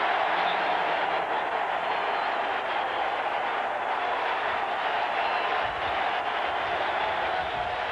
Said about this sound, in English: This crowd is sparked.